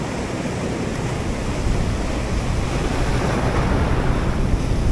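Ocean waves roll at sea during a fishing trip, making a loud, continuous roar mixed with heavy wind buffeting the microphone, with no clear breaks between surges.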